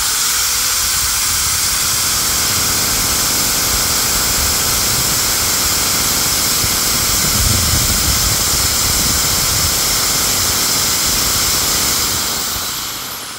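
A DCK KJ electric drill spinning at its top speed setting, giving a steady, loud whirring hiss that holds unbroken for about twelve seconds before winding down at the end.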